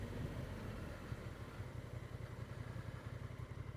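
A motorcycle idles while stopped on a ride. Its engine puts out a steady low, pulsing burble with a faint clatter. It sounds close and holds an even rhythm with no revving.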